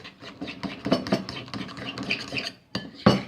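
Slime being scraped around a plate, giving close, busy scraping and scratching strokes with soft clinks, rising to a louder scrape near the end.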